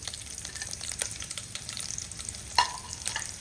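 Green and dried chillies temper in hot oil, a continuous light sizzle and crackle up close with a sharp pop or clink near the end, and no voices.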